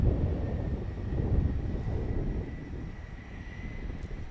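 A Southwest Boeing 737-700 arriving at Dallas Love Field makes a steady, moderately loud low roar that holds throughout and swells and eases slightly, with no one talking.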